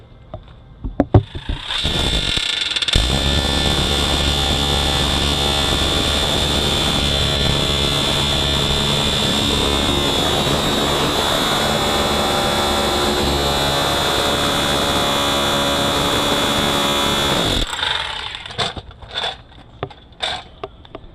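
A chisel drives into the riveted old lower ball joint of a 2003 GMC Sierra 1500's lower control arm, making a loud, close, continuous harsh buzzing that runs for about fifteen seconds, then cuts off into a few scattered knocks.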